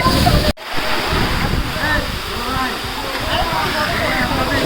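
A steady, roaring rush of a waterfall at Sitakunda, Chattogram, Bangladesh fills the whole clip, broad and continuous, with faint voices partly buried beneath it.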